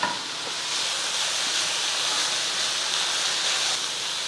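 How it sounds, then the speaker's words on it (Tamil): Manathakkali greens stir-fried with grated coconut in a hot pan, giving a steady close sizzle and hiss of stirring throughout with no talking. "இப்போ கடைசியாக வந்து தேங்காய் கொஞ்சம் துருவினது சேர்த்துட்டு கலந்து கொடுத்துட்டு ஆஃப் பண்ணிடலாம்"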